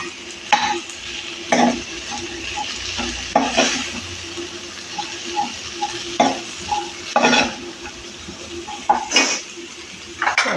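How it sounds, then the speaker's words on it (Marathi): Carrots being stirred and sautéed in a pan for a veg cutlet mixture: steady soft sizzle with repeated scraping stir strokes of a spoon against the pan, close and alone with no talking. "सगळं थोडं परतून घ्यायचं आहे."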